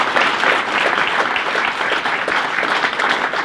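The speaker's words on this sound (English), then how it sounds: "would you give them, please, a rousing round of applause?" Rousing applause from a crowd at the opening of a tennis center, loud, dense clapping that holds steady for the whole stretch with no voices over it.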